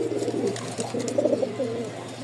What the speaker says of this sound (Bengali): দেখছেন প্রতিটা কবুতর পুরো একদম হিট নিয়ে চলে আসছে